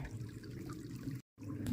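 Water pours from a pipe at a trail spring into a bottle, a soft steady trickle and gurgle with a brief cut in the middle, close and fairly quiet.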